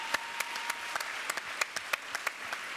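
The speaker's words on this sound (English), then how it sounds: "People from Telefonica are cheering." A conference audience from Telefonica at a Bavarian tech event applauds, sharp irregular claps standing out above a steady bed of crowd noise, moderately close.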